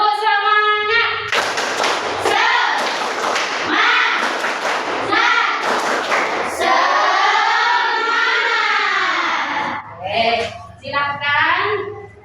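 A school class of children does the tepuk semangat, a rhythmic clapping chant, with sharp claps in quick patterned bursts under loud group chanting, followed by sustained shouted voices that then trail off.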